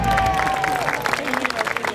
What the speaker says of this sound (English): Give the girls a round of applause.